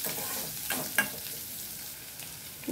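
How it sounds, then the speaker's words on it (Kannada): Onions and green chilies frying in a pan while being stirred, a soft steady sizzle with a few scraping stirs and light clatters, close by and with no talking. "ಎರಡು ಮೆಣಸಿನ್ಕಾಯಿ ಹಾಕ್ಕೊತೀನಿ, ಈರುಳ್ಳಿ ಹಾಕ್ಕೊತೀನಿ. ಸ್ವಲ್ಪ ಫ್ರೈ ಮಾಡ್ಕೊಳ್ಳೋಣ ಚೆನ್ನಾಗಿ."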